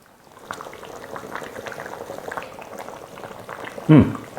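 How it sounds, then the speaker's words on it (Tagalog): Beef simmering slowly in boiling liquid until tender, giving a steady bubbling and gurgling that holds even, then a brief louder splash near the end. "kailangan pa natin itong pakuluan ng dahan-dahan hanggang sa lumambot na ng tuluyan yung beef"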